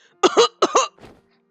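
Two harsh, voiced coughs in quick succession, each a double burst, followed by a faint raspy breath; close and fairly loud with no talking. A video game character coughing in Hakuoki: Edo Blossoms.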